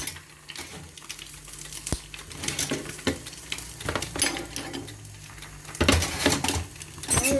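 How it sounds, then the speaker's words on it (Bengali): An egg frying in a pan during a morning breakfast routine, a close, continuous crackling sizzle broken by scattered metallic clinks and scrapes of a utensil. "ডিমটা ভেজে নিচ্ছি"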